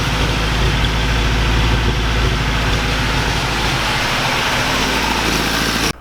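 A Toyota 4Runner engine, suspected of a slight misfire, idles loud and close just after starting, a steady, even rumble for about six seconds.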